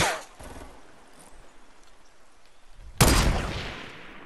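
Gunfire from a firefight in the video game Fortnite, with a sharp burst at the start, a quieter stretch of scattered shots, then a loud, dense volley near the end.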